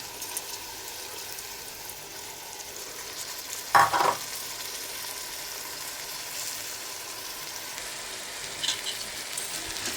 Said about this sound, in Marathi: हे धुतलेले जे तांदूळ आहेत ते यामध्ये घालून घेऊया.